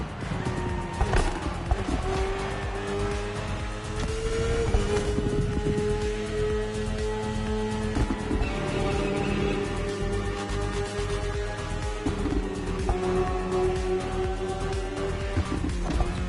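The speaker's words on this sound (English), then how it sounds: "The one you're riding is the S1000RR. It's what we call a superbike." A high-revving BMW S1000RR superbike engine whines continuously in The Crew Motorfest, its pitch rising and dropping with gear changes, against a busy racing-game soundscape.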